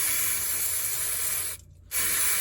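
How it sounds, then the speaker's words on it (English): Brake cleaner sprays from an aerosol can onto the brake bleeder of a 2014 Opel Corsa D 1.4, making a steady close hiss that breaks off briefly and then resumes. "So with some brake cleaner,"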